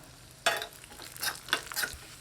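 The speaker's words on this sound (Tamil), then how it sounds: "லேசாக முந்திரி வறுபடட்டும் இது கூடவே திராட்சையும் சேர்த்துக்கலாம் திராட்சையும் வறுத்துக்கலாம்" Cashews and raisins roasting in a pan for rice milk payasam, with a sharp scrape of stirring followed by several softer stirring and sizzling sounds, close up with no talking.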